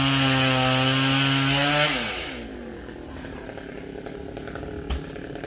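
A chainsaw cutting down a coconut tree about ten metres tall roars loudly at high revs, then drops sharply to a lower idling rattle, with a brief thump near the end.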